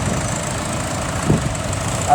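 A 1978 Leyland 154 tractor idles at a steam rally tractor parade, a steady, moderate diesel chug with a small bump of louder engine noise partway through amid outdoor crowd ambience.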